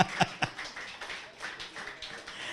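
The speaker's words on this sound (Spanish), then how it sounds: "Dele un aplauso para el Señor" Church congregation at a Spanish-language service clapping: a few sharp claps up front, then light, scattered applause continuing faintly.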